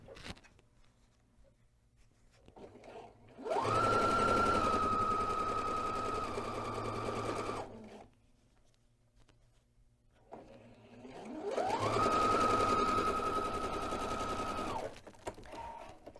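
Sewing machine stitching a partial seam on a quilt block, two separate bursts of steady whirring a few seconds each, starting and stopping cleanly, close and fairly quiet with near silence between.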